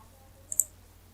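A computer mouse clicks twice in quick succession while Windows 10 settings are operated, small crisp ticks that stand out alone against a quiet background hum.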